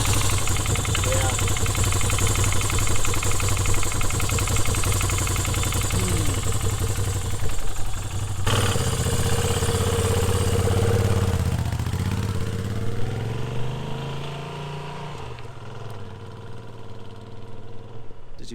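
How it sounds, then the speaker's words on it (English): An idling Moto Guzzi motorcycle engine runs with a steady, close low rumble and ticking top-end valve noise, its tone shifting partway through. "Did you hear that top end noise?"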